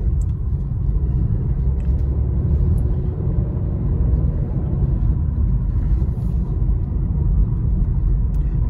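A 2020 Honda City's engine drones steadily while driving at night, a continuous low rumble of engine and road noise heard from inside the cabin with no talking.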